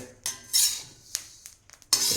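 Flaxseed is stirred in a metal kadhai wok: a few short scraping, rattling strokes, close and distinct, with quiet gaps between them.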